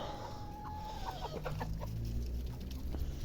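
Chickens cluck softly nearby, scattered short calls over a quiet outdoor background with a faint distant bird whistle.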